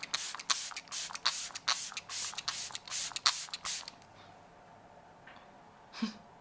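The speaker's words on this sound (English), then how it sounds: "I can spray this, which speeds the process along" A spray bottle of setting spray mists onto a face in a rapid series of short hissing bursts, about a dozen pumps close up, then stops, followed by quiet rustling.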